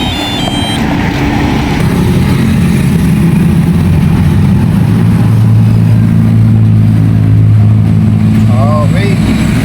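A car rolls along slowly with its engine running, a loud, steady drone close by that holds through the whole stretch, while someone talks over it.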